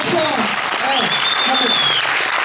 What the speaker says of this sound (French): Applaudissements pour Alice.